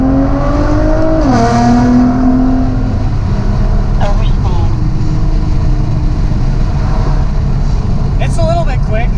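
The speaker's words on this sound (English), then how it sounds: "So we're going to get a little acceleration here with the" A tuned Nissan GT-R accelerates in a loud, steady engine roar with rising and shifting tones, heard from inside the car while a person talks over it.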